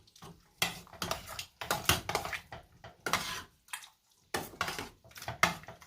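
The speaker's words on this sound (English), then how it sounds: "Give this a good stir." Stirring a pot of vegetable stew with smoked paprika, repeated scraping and clinking of a utensil against the pot in uneven bursts, close up with no voices.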